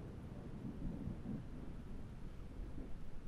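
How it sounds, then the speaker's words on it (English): Thunderstorm rumbling steadily with low, rolling thunder and a wash of rain noise, continuous and moderately loud with no talking. "The storm is too much."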